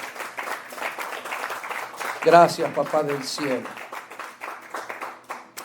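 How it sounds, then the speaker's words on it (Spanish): A church congregation claps during a Spanish-language worship service, the applause running beneath a voice that speaks over it before tapering off. "Denle un fuerte aplauso al Rey de Gloria en esta tarde"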